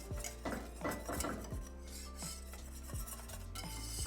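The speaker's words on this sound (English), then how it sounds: "Add it in, whisk it in." A whisk scrapes and rattles against a metal pot as paste is beaten into chicken stock. The strokes are quick and repeated, close and steady, with no talk.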